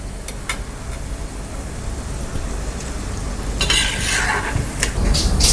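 Sweet seedai, small dough balls made for Krishna Jayanthi, frying in oil over a low flame: a continuous bubbling sizzle that grows louder toward the end, with a few light metallic clinks of a ladle or slotted spoon against the pan.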